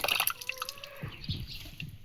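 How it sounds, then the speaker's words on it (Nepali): Rain drips in sparse, quiet plinks outdoors, with a brief whistling tone and light scattered tapping around it. "पानी पर्दैछ"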